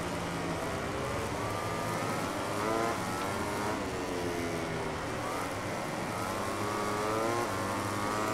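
MotoGP motorcycle engines in the MotoGP 2018 video game at the San Marino circuit scream at high revs, pitch sweeping up and down with gear changes and braking, loud and continuous, with other bikes audible nearby.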